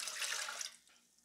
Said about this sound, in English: And then you want to put your water in.